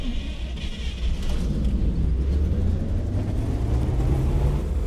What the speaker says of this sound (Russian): Ах, эти звуки пазика